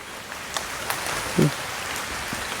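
Steady rain falls at a sacred outdoor place, giving a continuous soft hiss with a few faint patters and a brief low murmur partway through.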